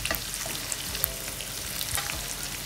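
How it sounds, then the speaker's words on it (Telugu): Prawns fry in a pan on a home stove, a steady dense sizzle and crackle of hot oil with occasional small pops, close and continuous with no talking. "ఇంకా ఎంతసేపు అయితే మమ్మీ ఇదంతా ఫ్రై అయ్యేసరికి?"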